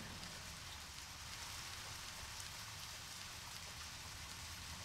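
Steady, even rain hiss in the game Deadly Premonition with a dense patter of drops, continuous throughout and with no voices.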